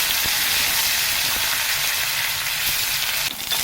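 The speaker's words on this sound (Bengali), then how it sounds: "একটু ভালো করে ব্রাউন করে ভেজে নিতে হবে পেঁয়াজগুলো" Sliced onions fry until brown with panch phoron in oil, making a steady, loud, close hiss of sizzling with a few faint knocks and no speech.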